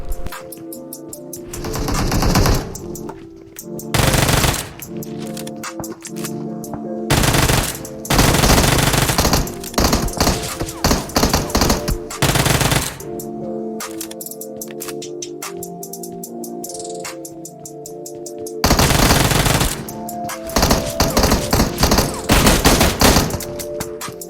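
Automatic gunfire bursts in a PUBG Mobile gunfight: loud, rapid machine-gun volleys in repeated clusters with short gaps, game music and effects underneath, no talking.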